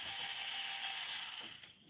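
Small electric motor of a fishing rod dryer in a custom rod-building workshop, a steady quiet mechanical whir that runs evenly, then dips briefly near the end.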